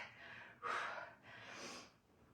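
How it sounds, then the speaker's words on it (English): Heavy breaths during a continuous lower-body dumbbell workout: a sharp, loud inhale followed by a longer rushing exhale, close and alone without speech. "Breathe in. Breathe out."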